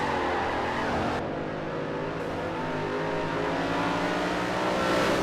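A V8 supercar in Forza Motorsport 4 roars steadily at high revs down a back straight, the dense engine note loud and continuous throughout with no voices.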